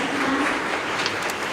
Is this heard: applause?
yes